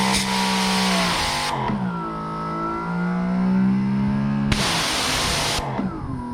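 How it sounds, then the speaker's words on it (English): Greenworks Pro 3000 PSI electric pressure washer running, a motor whine that rises and falls in pitch, alternating with bursts of hissing spray, fairly loud and steady without talk. "Very quiet, all things considered, compared to a gas pressure washer."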